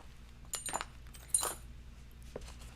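A key ring with car keys jangles close by, giving two bright metallic bursts of clinking followed by a faint tap, in a quiet room.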